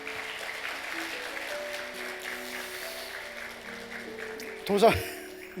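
A church congregation at a Sunday worship service in Daegu, South Korea, claps in a soft, diffuse patter beneath a leader's voice, fading gradually before a short louder burst near the end.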